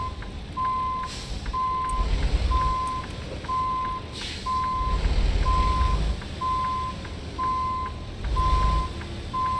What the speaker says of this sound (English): sorry for the backup beeping